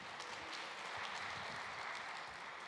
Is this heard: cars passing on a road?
no